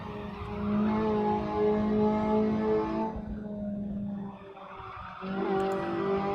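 Ferrari F355 in Assetto Corsa braking and lifting through a corner at Cadwell Park, its engine note a loud steady drone that drops away briefly mid-corner before climbing again, with faint tire noise.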